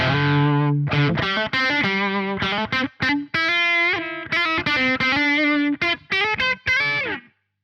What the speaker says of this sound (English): so that's got a nice kind of tone for those kind of medium gain sounds